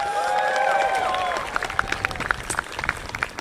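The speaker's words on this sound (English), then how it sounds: "Give her a round of applause." Brief applause from an outdoor crowd at a Christmas tree lighting ceremony, scattered claps following a short stretch of tonal sound and chatter.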